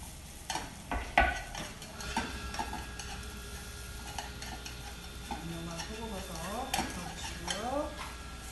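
Seasoned shiitake mushrooms stir-frying in a pan for japchae, with soft sizzling under repeated scrapes and clacks of a utensil against the pan and a few sharp knocks near the start, fairly quiet and close.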